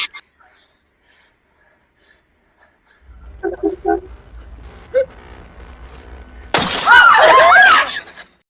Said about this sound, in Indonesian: gelas di depan Emma yang katanya mahal tiba-tiba pecah